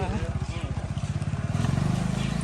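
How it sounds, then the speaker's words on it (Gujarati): A motorcycle being ridden in a farm field, its engine a close, rhythmic low putter that rises in pace partway through, with people talking over it. "ફાઇનલી મસ્ત મજાની બાઇક આવડી ગયું છે મીરભાઈને"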